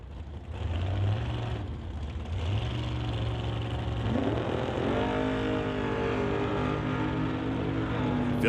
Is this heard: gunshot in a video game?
no